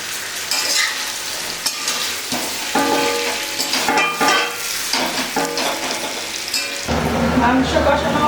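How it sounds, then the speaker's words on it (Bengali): Chicken kosha with fried potatoes sizzles and is stirred in a hot pan, steady loud frying with repeated scraping strokes of a spatula throughout. "এখন ভেজে রাখা আলুগুলোর মধ্যে দিয়ে ভালো করে আমি কষি"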